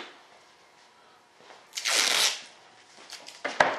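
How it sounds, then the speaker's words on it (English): Tape is pulled from a roll and pressed down to hold parts shut while work is done on an F-16. A sharp ripping burst is followed by crinkly pats and taps, close and moderately loud. "let me put some tape on them. So they stay shut."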